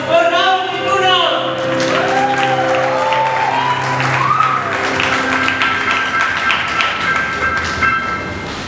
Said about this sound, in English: Another round of applause for Ramati Kunam.